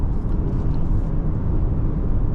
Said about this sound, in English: On a smooth road, we do get some tire noise and we do get some wind noise, but nothing offensive.